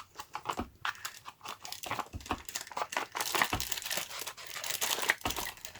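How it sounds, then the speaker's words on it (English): A pet chews on a crinkly plastic bag on a desk, producing irregular close crackles, rustles and crunches that come in uneven bursts, growing busier toward the end. "It's him chewing on the bag."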